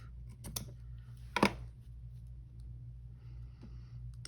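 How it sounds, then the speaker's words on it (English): Scissors snip through a piece of material while a rose-themed cover is being made. Two or three close, crisp cuts sound just before and around the loudest point, with quieter handling rustles afterward. "And I'm gonna snip this one off."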